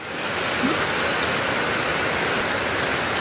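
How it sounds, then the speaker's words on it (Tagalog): Heavy rain pours down in a dense, steady hiss, loud and continuous throughout. "Kusog kayong ulan."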